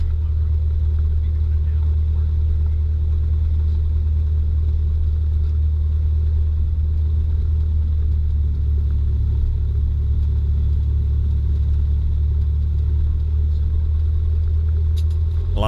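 A small airplane's engine idles on the runway before takeoff, producing a loud, steady, deep drone that holds without a break throughout.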